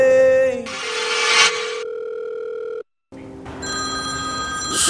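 Telephone ringing with an incoming call: electronic ring tones sound loud and close, cut off by a brief silence, then resume.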